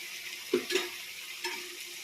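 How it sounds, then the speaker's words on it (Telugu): Tomato pieces sizzle in a hot pan with ridge gourd and fenugreek curry, a soft steady frying hiss with two or three light thuds as pieces drop in, close and faint. "టమాటా ముక్కలు వేస్తున్నాను"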